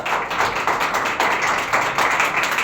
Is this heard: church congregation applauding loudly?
yes